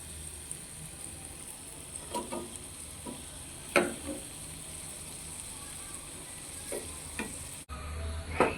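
Fries frying in hot oil give off a quiet, steady sizzle, broken by occasional sharp clicks and scrapes of stirring, with a brief dropout near the end.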